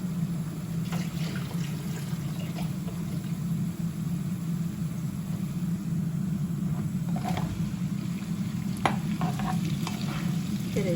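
Handful of village peppers dropped into a pan for a leek and chickpea celery dish, giving a steady, close sizzle with occasional stirring scrapes throughout.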